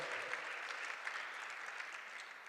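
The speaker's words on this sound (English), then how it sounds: "Round of applause as well." Steady applause from a lecture audience fills the room at moderate volume, a continuous patter of many hands clapping without voices.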